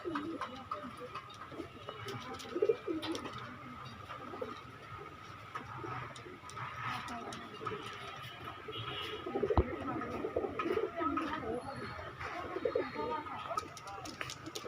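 A pair of Tulo pigeons coo softly at a busy Khulna bird market, faint throaty coos running under nearby talk and general crowd noise.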